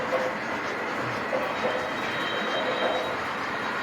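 Model diesel locomotive running on a home model railway layout, giving a steady close mechanical rumble with a faint whine and rail clatter throughout, no talking.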